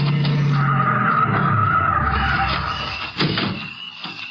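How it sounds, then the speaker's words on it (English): Cars approach on a road in an old radio crime drama, a steady engine roar with tire noise that swells and then eases, with no voices over it. "Here comes a couple of cars."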